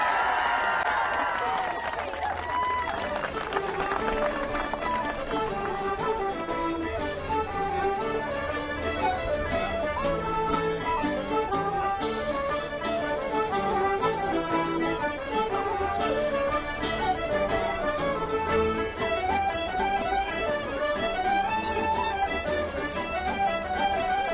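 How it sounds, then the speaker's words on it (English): A massive crowd cheering and applauding, played back as a recording: a steady, dense wash of clapping and roaring voices that holds for the whole stretch under ringing music-like tones. "turn up the volume on this, guys, because there's a big, big, big, massive crowd"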